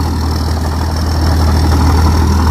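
A 2021 soil-leveling tractor engine runs steadily at a low, constant idle-like drone, loud and close, with no voices.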